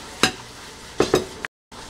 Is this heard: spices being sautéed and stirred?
yes